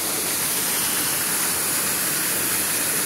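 A waterfall inside a cave on Oahu rushes as a steady, loud, dense hiss of falling water, continuous and unbroken with no voices.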